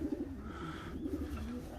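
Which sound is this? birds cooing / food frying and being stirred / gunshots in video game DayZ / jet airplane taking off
birds cooing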